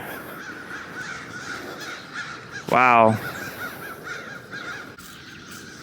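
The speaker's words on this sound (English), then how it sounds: "Now they went after the hawk" Crows mobbing a hawk let out a single loud, close run of harsh caws in the middle, set against constant background noise, with a person's brief exclamation heard too.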